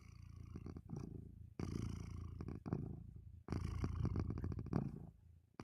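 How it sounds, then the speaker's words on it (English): A cat purring close up, a continuous low rumbling rhythm in repeated breath cycles with brief pauses between them, alone and fairly soft. "Can you hear her purring?"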